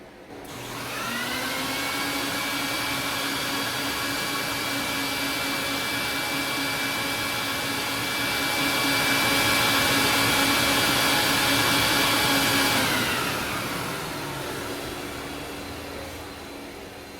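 A rug cleaning extraction machine spins up and runs with a loud, steady high-pitched whine and rushing suction, holding constant for over ten seconds before winding down; no talking.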